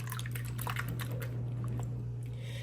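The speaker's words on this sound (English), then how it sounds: "So you just put your little bit warmer than room temp water, 300 grams of water, 120 grams of bubbly active starter, and give it a nice mix." Warm water and 300 grams of water with 120 grams of bubbly active sourdough starter being stirred in a bowl: faint wet squishing and dripping sounds over a steady low electrical hum.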